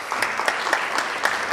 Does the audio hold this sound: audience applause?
yes